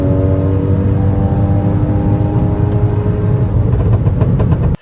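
A big-turbo VW MK8 Golf R accelerates hard on the Autobahn, its engine rumbling deep and loud with a rising drone that sustains at close range, then cuts off at the end.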